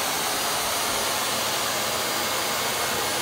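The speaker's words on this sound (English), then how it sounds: "Turn the vacuum on." A vacuum cleaner runs steadily off a Ryobi 40V 1800W power station, a loud continuous broadband whoosh with no breaks and no talking.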